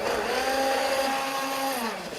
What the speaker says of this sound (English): With this blender, it doesn't remove coarse particles, but it blends it so well and chops things up